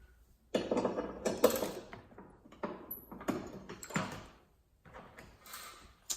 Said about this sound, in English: The first step is undoing 2 10mm bolts right here.